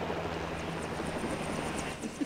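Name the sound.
helicopter in the video game LEGO Jurassic World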